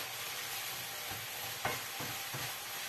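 Garlic and onion cook gently in a pan for a salt cod brandade, giving a soft, continuous sizzle with a few brief stirring scrapes and no talking.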